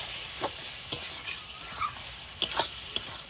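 Tomatoes and spice paste sizzle in a pan as a Bengali-style masala is cooked down, a steady close hiss broken by sharp scrapes and clinks of a spatula stirring against the metal.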